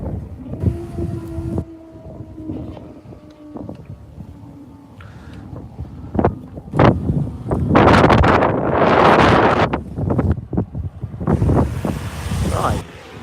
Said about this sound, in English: It's quite windy tonight as well.